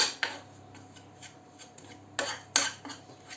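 A spoon scrapes and clinks against a bowl while mushroom sauce for Hutsul-style Christmas Eve mushroom dip is mashed smooth with broth, with irregular sharp knocks and soft rubbing strokes close up.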